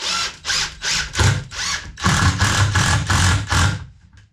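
A power drill drives 2.5 inch screws into a wooden board for a homemade car ramp, with loud, close bursts of ratcheting whir. First come several short pulses, then a longer sustained run before it stops.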